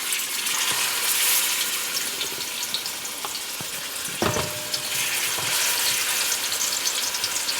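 Burger patties sizzle and crackle in hot beef tallow in a pot on a stovetop set high, a steady close frying hiss with a few spatula clicks and scrapes.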